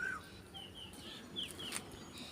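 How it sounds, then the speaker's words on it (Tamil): An Asian koel calls outdoors, a few short, faint whistled notes rising and falling over soft background hiss, fairly distant and without any talk. "குக்கு குயில் கூவுது"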